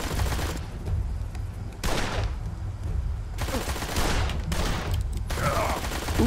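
Rapid bursts of gunfire in the video game Blues and Bullets, loud and close, coming in several dense volleys separated by short gaps, with no talking over them.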